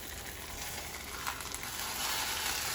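A kimchi pancake frying in a pan, giving a steady, moderately quiet sizzle that holds even throughout, with no talking.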